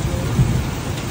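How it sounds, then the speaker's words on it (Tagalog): Heavy rain from a typhoon pours steadily in Batangas with a deep rumble of thunder rolling underneath, loud and close. "lakas ng ulan"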